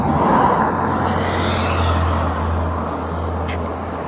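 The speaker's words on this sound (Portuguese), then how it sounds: "Vem um carro aí." A car approaches on a rural roadside among rocky hills, its steady low engine rumble and tyre noise building softly in the distance over a constant hum.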